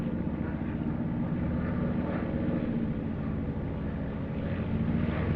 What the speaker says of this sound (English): I'm gonna have your engine down just 'cause it's deafeningly loud and I can't hear.